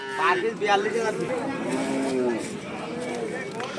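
Cattle, including Friesian bull calves, low and moo amid a crowd of voices at a Kalaroa livestock market, calls overlapping under nearby chatter.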